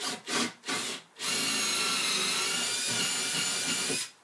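A power drill whirs steadily for about three seconds, biting through leather, after a few short start-up bursts; close and fairly loud.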